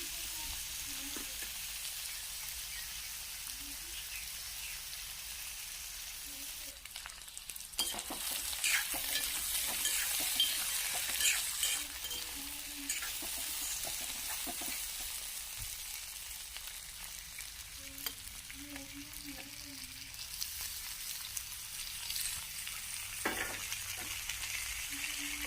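Frying in a pan, a continuous close sizzle of oil with brief scraping stirs and a few light clinks, getting noticeably louder partway through.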